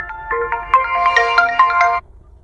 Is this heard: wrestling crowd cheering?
no